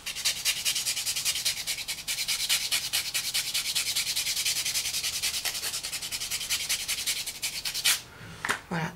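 Nail polish layers being sanded smooth on a fingernail with an Orly rescue kit, a steady close scratchy rubbing that runs evenly for about eight seconds before stopping, with a few brief knocks at the end.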